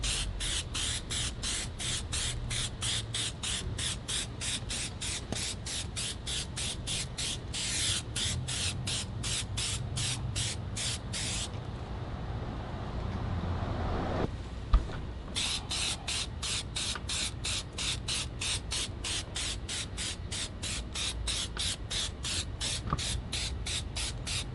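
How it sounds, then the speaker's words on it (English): Spray from a Meguiar's headlight restoration kit lays a sealant coat on a car headlight, a close hiss broken into rapid even pulses, pausing briefly partway through before the pulsing resumes. "Let's go ahead and seal off this headlight."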